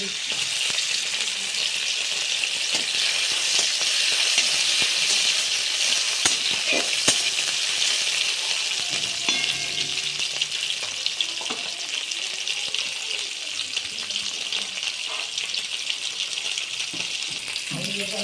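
Split green chilies sizzle in hot oil for tempering, a steady broad frying hiss with occasional stirring clatter, close and loud throughout with no talking.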